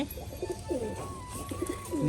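Several Rajshahi pigeons, some with feathered feet, coo softly nearby in low, repeated throaty calls, set against a steady faint background hum.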